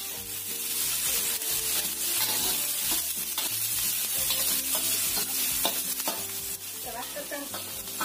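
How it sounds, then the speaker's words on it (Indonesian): Shallots, garlic, ginger and onion stir-frying in a pan, a loud busy sizzle with constant scraping stirring strokes and a tonal hum underneath. "Kita tumis dulu bumbunya. Bawang merah, bawang putih, jahe, dan bawang bombay"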